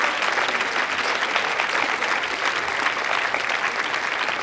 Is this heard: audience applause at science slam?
yes